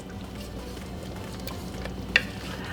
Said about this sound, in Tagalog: At hahaluin lang natin itong ating niluluto.